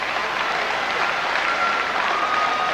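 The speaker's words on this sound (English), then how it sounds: "Have a big round of applause." An audience applauds after a kickboxing match at a state of origin event, a dense, steady roar of clapping from a large crowd sustained throughout.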